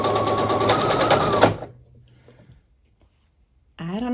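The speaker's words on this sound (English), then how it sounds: "I'm going to sew right on that marked line." A sewing machine stitches a quilt block along a marked line, running in a loud, steady close whir for about a second and a half, then stopping into near silence before a voice starts talking.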